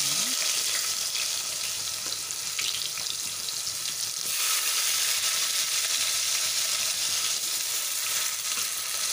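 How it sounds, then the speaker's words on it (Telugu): Chopped onion with pepper sizzles and fries steadily in a pan for khichdi, a continuous close hiss with faint stirring scrapes and no talk. "ఉల్లిపాయ కూడా వేసేస్తాము."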